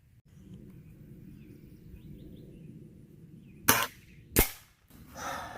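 Two sharp cracks from a Remington Express spring-powered air rifle firing at a soda bottle cap outdoors, each a brief loud snap about half a second apart over a faint background hum, with a softer noise following.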